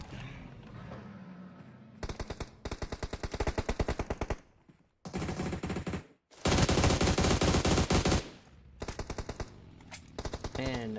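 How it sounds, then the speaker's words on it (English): Rapid automatic gunfire from a PUBG Mobile match in a North America scrim, loud and close, coming in several sustained bursts separated by short pauses. "Styles laying down some shots"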